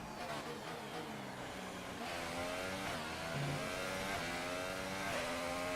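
An F1 car engine in the F1 2018 game, a Williams racing around Bahrain, whines and revs through rising and falling gear pitches, fairly faint and alone.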